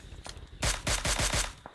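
Gunfire in the mobile battle royale game Battlegrounds Mobile India: a quick volley of about five rapid shots, fairly faint and evenly spaced, following a couple of softer, more distant pops. No one speaks.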